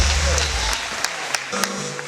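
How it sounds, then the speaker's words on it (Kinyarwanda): Applause from a church congregation rolls on briefly, then thins into scattered claps while a voice carries on over it. "dukomere amashyi uno mwungere wa repentance we yemeye Imana"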